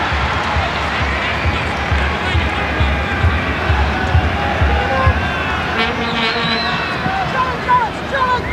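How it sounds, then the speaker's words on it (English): A crowd of about 26,000 at a football World Cup qualifier between Australia and Canada roars and chants in a loud, continuous swell, with a commentator talking over it. "Crowd trying to urge their team on."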